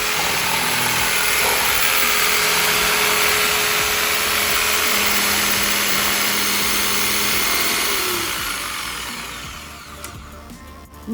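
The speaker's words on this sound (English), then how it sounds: "Jigsaw makes the world of difference." A new jigsaw runs outdoors under grey skies, a loud continuous buzzing motor drone that holds steady for about eight seconds, then fades as the tool winds down, with a small knock at the end.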